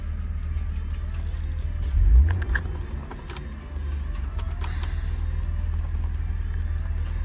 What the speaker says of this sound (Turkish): Altı silindirin o karakteristik sesini alıyorsunuz arkadaşlar.